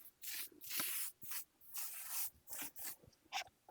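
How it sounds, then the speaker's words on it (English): Several short bursts of hairspray hiss close by, in quick uneven pulses with brief gaps between them. "spray it while it's up"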